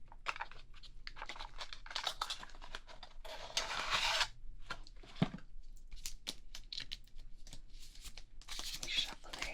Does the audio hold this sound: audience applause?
no